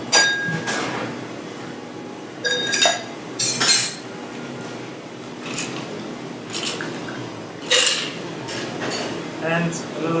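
Big ice cube clinking against a chilled glass while serving a whisky and cola, with scattered sharp clinks and taps spread across the moment and faint background voices.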